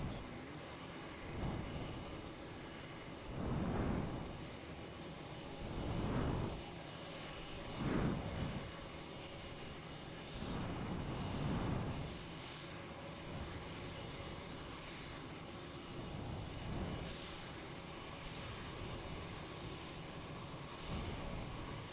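Airliner taxiing at Melbourne Airport, a faint, distant engine whine and rumble swelling and fading repeatedly over a steady background hum, with no voices.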